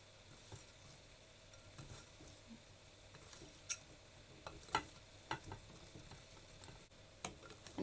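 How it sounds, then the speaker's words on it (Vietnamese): A balloon whisk mixes green tea cake batter in a bowl, making faint soft swishes and a few sharper taps against the side, spaced irregularly and close by. "Mình dùng cái phới lòng này mình trộn cho nó đều lại."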